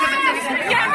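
Crowd chatter at Amrit Udyan garden, a brief close wash of many overlapping voices murmuring together without pause.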